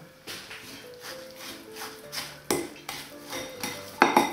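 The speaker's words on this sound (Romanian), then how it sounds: "Peste nucă punem zahărul și laptele fierbinte și amestecăm." Ground walnuts mixed with sugar and hot milk in a bowl for a walnut and poppy seed roll filling, heard as a series of clinking, scraping strokes of utensil against dish, fairly close, with no talk.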